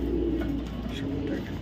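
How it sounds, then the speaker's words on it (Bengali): Racing pigeons, a pair of top-quality racer hens on a Bangladeshi loft farm, cooing softly at close range in a low, steady rolling murmur with no talk. "কতটা চমৎকার দুটো কবুতর"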